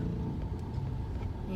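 A car rolls slowly downhill during a driving lesson as the learner eases off the brakes, giving a steady low rumble of engine and road noise throughout, with no talk over it.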